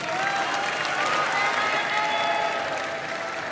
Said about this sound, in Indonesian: Waktunya memberikan tepuk tangan untuk seluruh pasangan calon